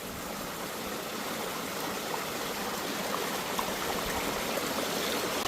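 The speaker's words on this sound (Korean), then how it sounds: "물 수도꼭지 틀어놓은 것처럼 물이 잘 나오네요" Water pours in a strong, steady stream from a portable water purifier, like a running tap, continuous and fairly close with no talking.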